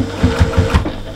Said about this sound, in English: And I'm stitching,